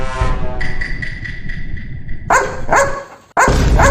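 Dog barking in a comedy sketch, a string of loud, close barks in quick bursts, with a brief pause before a final bark.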